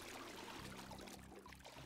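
Water runs steadily and faintly while clothes are washed in Project Zomboid, a survival video game, making a low, continuous splashing flow.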